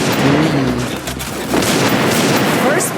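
Loud, rapid gunfire in the Free Fire game, bursts of shots crackling close and over one another, with someone talking over the fighting.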